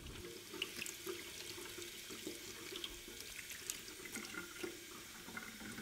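Hands being washed under a running sink tap, a steady faint stream of water splashing with small irregular splatters throughout, no voices.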